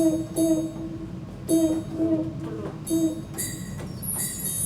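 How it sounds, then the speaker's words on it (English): Short sustained car-horn-like tones from a Yamaha EZ220 electronic keyboard sound in bursts, repeated several times with brief pauses, fairly close and clear over a faint background. "Sounds like a car horn to me."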